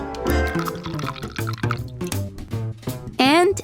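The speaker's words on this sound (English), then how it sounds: "Finally, I can pour it into bowls." Sweet sugar syrup base for homemade lollipops is poured into bowls, with a close, continuous liquid trickle and splash. A voice talks over it and rises at the end.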